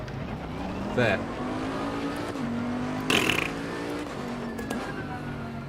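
A Bentley GT race car engine in Assetto Corsa Competizione drones steadily through its rev range, with sudden sharp rasping blips near the start and middle and a fainter one later, under brief talk.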